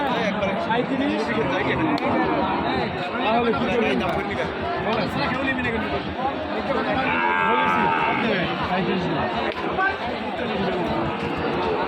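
Cattle low and moo repeatedly amid a busy crowd of people talking and chattering all around at a livestock market, close and continuous.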